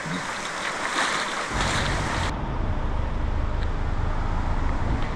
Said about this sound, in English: There you go, second waterfall, Swallow Falls.